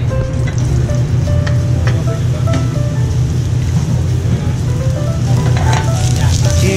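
Diced butternut squash fries in hot olive oil, giving a loud, steady, close sizzle with crackling pops that runs unbroken throughout.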